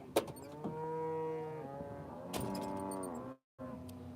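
A 27-year-old cow on a farm moos loudly and close, two long drawn-out lowing calls with a short clatter between them and a brief dropout before the second call trails off.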